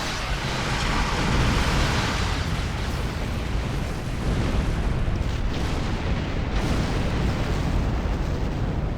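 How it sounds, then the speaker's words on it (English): Dense, continuous rumbling explosions and booms from a space battle in the video game Star Trek Online roll on without pause, loud and heavy, with bursts blending into one another. "Lots of explosions, but not the kind of ones you really take any pleasure in"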